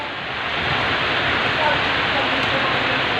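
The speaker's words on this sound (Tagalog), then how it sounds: "Sobrang lakas ng ulan dito sa Urban Deca." Heavy morning rain pours down in a dense, continuous hiss, loud and unbroken, with no other sounds standing out.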